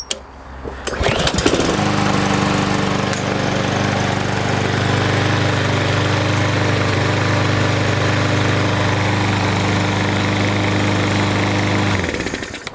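A customer's lawn mower with a freshly cleaned carburetor and fresh gas is pulled and fires on the first try, then settles into a loud, steady running drone that holds for about ten seconds before cutting off.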